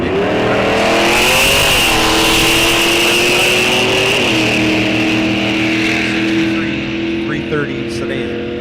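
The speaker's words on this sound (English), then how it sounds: "Now we got Roman Kieski, left side in his 67 GTO. I'm sorry, 66 Pontiac Le Mans." A 1966 Pontiac Le Mans drag racing car roars at close range, its engine rising in pitch as it accelerates and shifts, loud and continuous, then fading slightly at the end with a public-address announcer heard over it.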